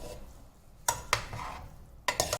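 Chicken mixture with lemon juice and saffron water being stirred in a bowl, with a few distinct clattering scrapes against the sides amid quiet background, no talking.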